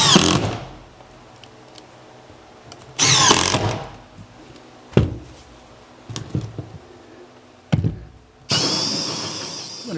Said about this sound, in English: Then I'll just drill around it.